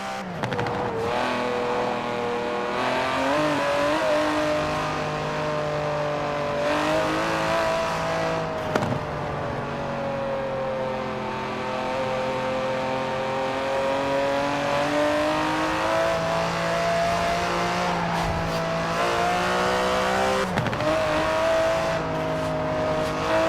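A DB11's 5.2-litre twin-turbo V12 in Forza Horizon 4 drones loudly and continuously, its pitch climbing and dipping as the revs rise and fall, with a few brief shifts.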